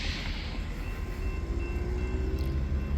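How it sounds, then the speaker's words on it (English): A train rolls past on the rails in downtown Ardmore, Oklahoma, a steady low rumble with faint wheel squeal, continuous and fairly close for the whole stretch. "I'm stopped by this train right now"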